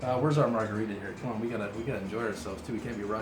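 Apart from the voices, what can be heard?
None of the usual background noises is heard.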